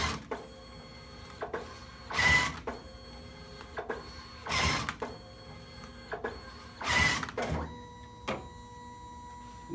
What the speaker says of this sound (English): now it's going to reset the printer